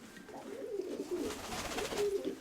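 Pigeons coo in a loft, a low, rolling, repeated murmur of several birds close by, with no talk over them.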